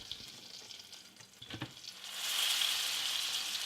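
A steak sears in a very hot butter bath, with a steady loud sizzle that swells and grows louder partway through, and a few soft handling knocks early on.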